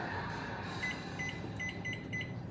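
A kitchen timer gives a string of short, high electronic beeps as it is set, some in quick pairs, over a low steady hum in a home kitchen.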